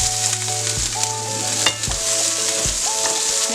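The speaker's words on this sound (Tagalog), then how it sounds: "Saute first the garlic," Garlic and then onion sautéing in a pan for pork belly mechado, a steady close sizzle with a few stirring knocks, under a background tonal hum, no talk.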